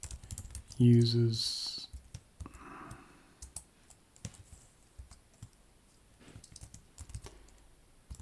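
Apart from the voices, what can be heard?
typing on a computer keyboard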